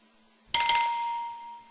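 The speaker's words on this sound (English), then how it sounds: "when it's time for you to turn the page, you'll hear a sound like this." Two quick bright chime strikes ring out, then a clear tone lingers and slowly fades, a gentle signal sound with no voices.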